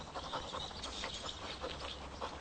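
A huge dog pants quickly and rhythmically at close range, its breath coming in soft, breathy puffs that carry on unbroken without any voices.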